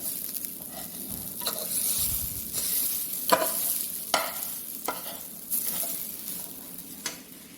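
French fries frying in hot oil, a continuous close sizzle with occasional sharp clicks and scrapes as they are stirred, no talking.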